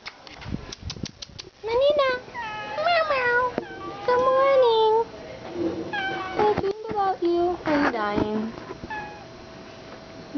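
A 12-year-old pet cat meows repeatedly up close, a run of rising and falling cries with short pauses between, while someone talks softly alongside, in a morning setting in Quepos, Costa Rica.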